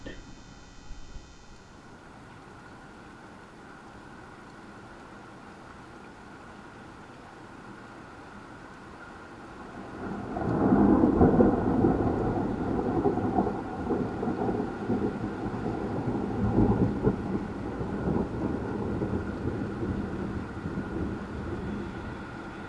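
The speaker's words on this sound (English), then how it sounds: "occasional flash, lightning, you hear the thunder." Heavy rain pours steadily during a June thunderstorm, swelling to a loud, dense roar midway with low rumbling thunder underneath, close and continuous.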